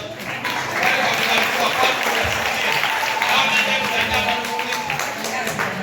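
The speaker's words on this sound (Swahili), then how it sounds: "Sasa mbona mnapiga makofi kidogo kidogo" Worship congregation clapping in a Swahili church service, dense continuous applause from many hands with a voice speaking over it throughout.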